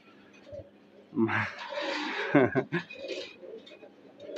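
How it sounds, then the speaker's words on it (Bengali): Several breeding pigeons coo in a loft, soft throaty calls rising and falling close by with some rustling, as someone talks over them. "এখানে অনেকগুলা কবুতরই রয়েছে"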